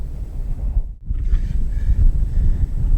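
Steady wind buffets the microphone at an outdoor shooting range, a constant low roar that briefly drops away near the one-second mark before surging back.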